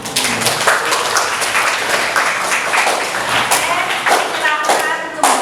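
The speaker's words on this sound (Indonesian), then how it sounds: "Tepuk tangan." A classroom audience claps together during a teacher training lesson, giving a dense, steady burst of applause that runs for several seconds, with a few voices mixed in.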